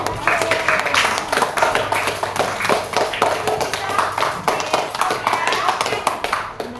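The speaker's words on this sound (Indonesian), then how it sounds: "Kita berikan tepuk tangan dulu" An elementary classroom claps, close and fairly loud, with a quick, uneven patter of many hands that keeps going for several seconds, while a few voices come in faintly underneath.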